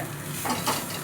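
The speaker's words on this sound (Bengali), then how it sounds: "এবার আমি নাড়তে থাকবো" Fish masala with a little oil and Kashmiri chilli powder being stirred in a pan, giving a loud, close, continuous sizzle and frying hiss with a couple of brief scraping strokes and no voices.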